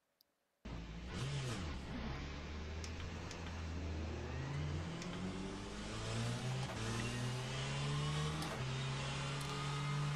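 A Corvette race car engine in the Le Mans Ultimate racing game starts abruptly after near silence, then revs and climbs steadily through the gears, loud and continuous with rising engine tones.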